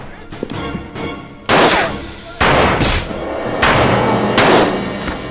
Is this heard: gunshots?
yes